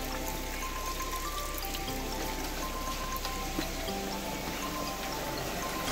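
Spring water runs and trickles over rocks near a waterfall on a trail in Finca El Barretal close to the Pacaya volcano, a steady close wash of flowing water with small splashes throughout.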